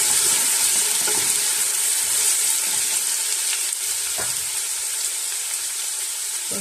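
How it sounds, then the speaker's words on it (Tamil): Five medium sliced onions frying in oil for a three-kilo Sri Lankan-style mutton curry give a steady, close, loud broadband sizzle with occasional stirring scrapes, no voices. "வெங்காயம் வந்து நல்லா பொரிஞ்சு வரட்டும்."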